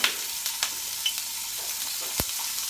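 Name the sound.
minced ginger sizzling in hot oil in a pan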